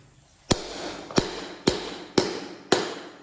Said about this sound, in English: When you're on the end, the only thing what you have to do is use this tool to hammer it in.